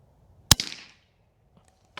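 Single sharp crack of a Pinty Buster air gun firing a 7.9 grain pellet, close and loud with a short fading tail, then near silence and a faint click at the end.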